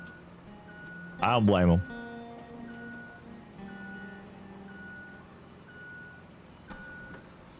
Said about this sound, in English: Somebody didn't like the backup alarm.